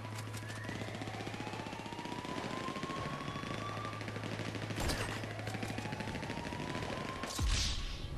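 Rapid, rattling automatic gunfire from GTA V during a nighttime shootout, a steady stream of quick shots at a moderate distance with a couple of sharper, louder bursts standing out near the end.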